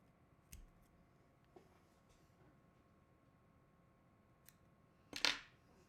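Scissors trim material with a single crisp snip near the end, following a few faint earlier clicks in a quiet room.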